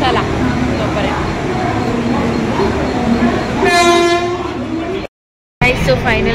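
At platform 3 of a Mumbai suburban railway station, a Borivali-bound train rumbles nearby amid crowd murmur, then a loud blaring horn sounds for about a second, followed by a brief dropout and more rumbling.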